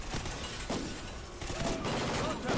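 Gunfire from Call of Duty: Ghosts, a busy firefight of rapid shots and bursts at moderate distance, mixed with shouted voices and battle noise throughout.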